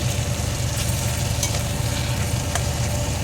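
A previously fried fish head sizzles in a pan with spices for a Bengali mung dal dish, giving a steady, close hiss of frying oil with a few faint scraping stirs.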